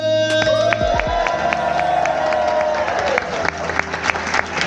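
A crowd at a sumo wrestling show cheers and applauds loudly and continuously, with shouting voices and steady clapping filling the space from start to finish.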